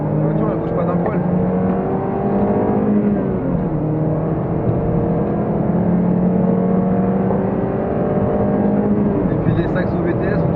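Peugeot 206 S16 driving on a track, its engine droning steadily with rising and falling pitch as it revs through gears, loud and continuous under people talking.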